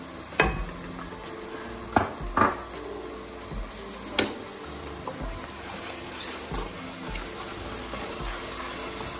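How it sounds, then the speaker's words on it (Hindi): Tomato paste masala cooking in a pan for a silver hake fish curry, a low bubbling sizzle with scattered sharp scrapes and taps of a spoon stirring against the pan. "ये आपने सारा टमाटर पेस्ट जो है इसमें डाल देंगे और फिर इसको अच्छे तरीके से पकाएंगे"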